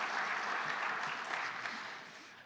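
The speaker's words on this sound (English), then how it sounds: "And that's where you give yourselves a round of applause." A lecture audience gives a short round of applause, dense clapping that is fairly faint and tapers off toward the end.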